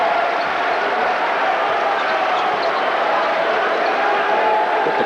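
Basketball crowd at a college game between Marquette and Providence roars after a slam dunk, a loud continuous cheer filling the arena.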